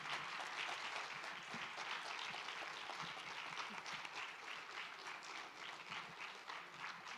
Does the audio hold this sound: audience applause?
yes